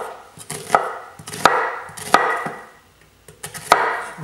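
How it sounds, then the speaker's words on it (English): A kitchen knife chops an onion on a cutting board in a home kitchen, with about five sharp, close knocks spaced roughly every second and no talking. "So go ahead and cut up your onion."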